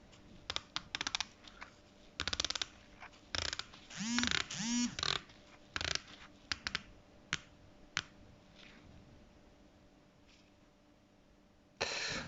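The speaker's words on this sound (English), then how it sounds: "describe that bezel action, it would not be buttery. It's a bit like a zipper." A Steeldive SD1954M automatic diver watch bezel is turned in bursts, giving sharp ratcheting clicks that sound like a metal zipper, close up and crisp, separated by quiet pauses.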